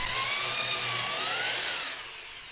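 A power drill bores holes into wood for a dance pad replica build, a steady high whine holding close and even for a couple of seconds before easing off slightly.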